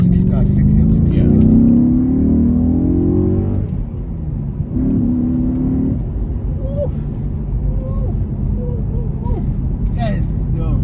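An Audi B7 RS4 Avant V8 revs through its intake with a deep, rising roar in two bursts, then settles to a lower rumble while people talk over it inside the car.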